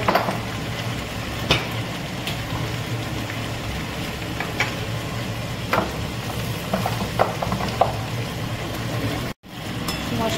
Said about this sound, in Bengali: কুমড়ো ভেন্ডি ভাজা হচ্ছে নিরামিষ